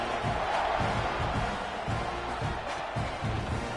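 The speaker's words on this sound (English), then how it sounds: "this crowd is buzzing after that last score" Football stadium crowd buzzing after a score, ahead of a kickoff, a steady, dense roar of many voices filling the air, loud and continuous without a clear break.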